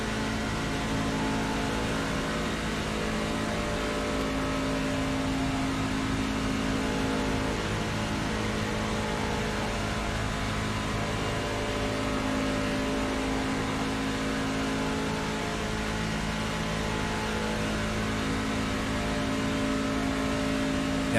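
Heard from the cockpit of Shane Tierney's race car on a qualifying lap, the engine drones steadily and loudly, with a sustained buzzing tone that rises and falls slightly as the car circles the track.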